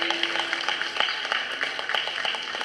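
A small group at a yoga weight-loss session claps in a dense, steady patter, faint and somewhat distant.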